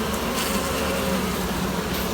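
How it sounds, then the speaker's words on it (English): Honey bees hum steadily at an opened hive during a split, a dense, continuous buzz that stays close and fairly loud throughout. "a good bit of bees."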